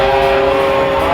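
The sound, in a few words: train passing by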